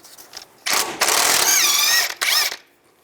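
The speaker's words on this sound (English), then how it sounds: "Use a 22mm socket, take the castle nut off." A 22mm socket on a ratchet turns a castle nut off a tie rod on a 2005-2015 Nissan Xterra, giving a few close, loud bursts of fast ratcheting clicks with short pauses between them.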